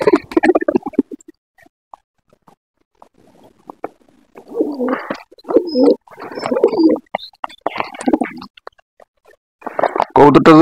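Pigeon kept apart, sick with fever and cold, making soft low cooing and gurgling bursts in quiet indoor surroundings, with brief human sounds near the start and end.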